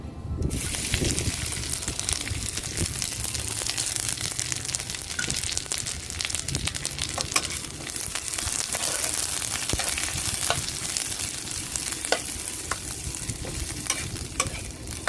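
Garlic sizzles and crackles steadily as it fries in a pan until fragrant, a continuous close frying hiss with occasional stirring scrapes throughout and no talk.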